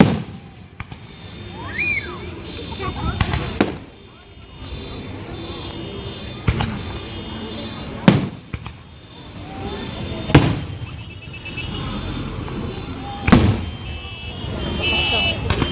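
Fourth of July fireworks bursting over Mira Mesa in 2013, sharp booms and crackling pops at irregular intervals, some near and loud, others more distant, with steady background noise and people chatting.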